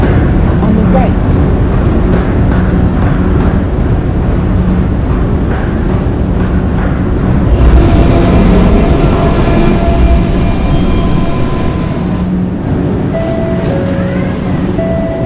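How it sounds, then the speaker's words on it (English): NYC subway E train running: a steady, loud rumble of wheels and motors fills the car throughout, with faint squeals and an automated announcement voice partway through. "This is a Catlin-bound E train."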